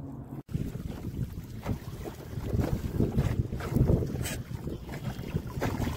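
Wind buffets a small fishing boat on the Grand River in Ohio, with gusty rumbling noise against the microphone and soft sloshing of waves, fairly quiet and without talk.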